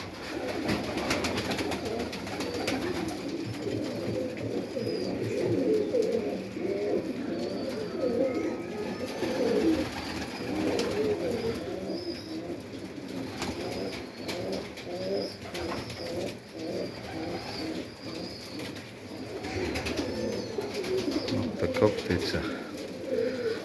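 Pigeons in a loft coo continuously in a low, rolling chorus, several birds close by with overlapping throaty calls and faint rustling throughout.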